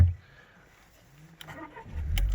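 A car engine cranks and catches near the end, a low rumble rising after a brief quiet stretch.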